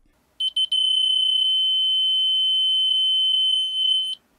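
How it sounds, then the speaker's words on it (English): A Huepar B03CG laser level receiver gives a few short beeps, then one loud, steady high-pitched tone that holds for several seconds before stopping abruptly, with no voices. "the laser receiver makes quite a bit of noise"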